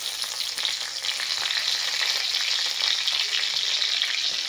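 Five-spice seeds and bay leaves sizzle in hot oil in a pan. The crackle is close, bright and constant for a few seconds, with no voices over it.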